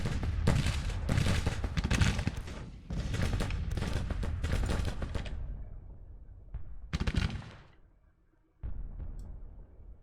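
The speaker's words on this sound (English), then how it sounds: "We can fire over with the Mississippi rifles." Massed Mississippi rifle volleys in a Grand Tactician Civil War battle, dense crackling bursts of musketry rolling in repeated waves, then a sharp lone burst and a fresh wave after a brief lull.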